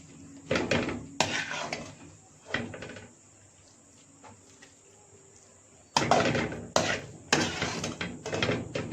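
Pumpkin halwa being served out of a pan, with bursts of metal spoon scraping and clinking against the pan in two clusters separated by a quieter stretch, close and fairly loud.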